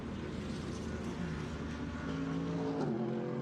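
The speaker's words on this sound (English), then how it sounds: "Well, it sounds like he's got a puncture." DTM race car at Circuit Zandvoort creeping along slowly on a punctured rear tyre, its engine a low, fairly faint drone with a shifting pitch and a slight lift near the end, heard at a distance.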